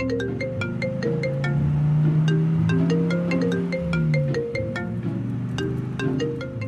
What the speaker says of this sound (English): Oh, looks like somebody's getting a phone call.